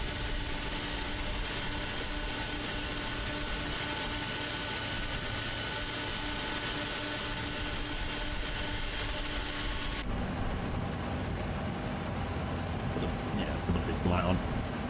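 An Airbus A300 in a flight simulator runs with a steady, droning engine whine and roar as its left engine spools up, the tone shifting partway through. A voice talks over the hum.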